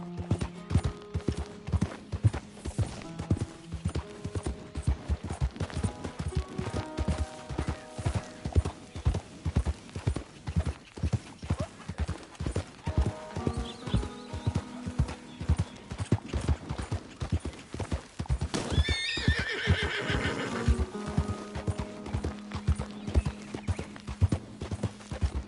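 A horse in Red Dead Redemption 2 gallops in a steady rapid clip-clop rhythm of hoofbeats throughout, with a loud whinny partway through; a voice speaks briefly over the hooves.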